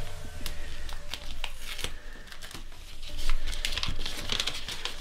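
A fan mail envelope being torn open by hand, crisp ripping and crinkling paper in several close bursts, with rustling between tears and no talk.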